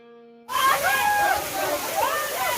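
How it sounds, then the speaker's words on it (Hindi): Water tumbles continuously at a hill-station waterfall in Pachmarhi, a steady rushing splash that starts abruptly and stays loud and close, with a voice speaking over it. "इस झरने की महान पुष्टिवर्धक बूंदें आपको पुकार रही हैं।"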